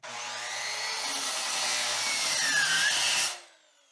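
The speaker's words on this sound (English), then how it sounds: "Let's try our 2x4 at a 45-degree." A Harbor Freight Warrior 7-1/4 inch miter saw bites through a 2x4 at a 45-degree angle, a loud steady whining cut lasting about three seconds before the blade cuts out and fades away.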